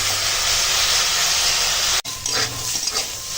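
Pumpkin flowers coated in salt and turmeric fry in a pan, giving a steady close hiss and sizzle that cuts off sharply for an instant, then returns softer with crackling pops.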